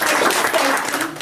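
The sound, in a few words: hand clapping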